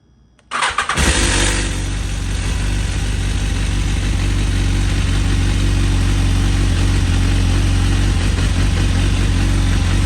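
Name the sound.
BMW S1000RR motorcycle engine starting and idling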